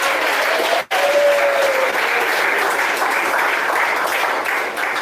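A church congregation claps hands in steady, dense applause that fills the room, loud and continuous, with a brief sharp cut near the start and a faint tone gliding beneath it.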